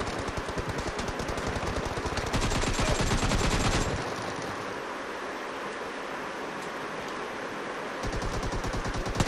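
Continuous automatic gunfire in the mobile game PUBG Mobile, a dense sustained rattle of rapid shots that thins out midway and then picks up again.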